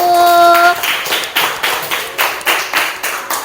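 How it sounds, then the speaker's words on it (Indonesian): A classroom gives rhythmic clapping for a student group, about ten sharp, evenly spaced claps in unison, close and loud, after a short tone at the start. "Oke, tepuk tangan untuk kelompok 1."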